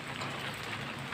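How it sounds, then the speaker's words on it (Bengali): Heavy rain pours down steadily in a dense, unbroken hiss that stays loud and even throughout, with no voices over it. "ভীষণ বৃষ্টি।"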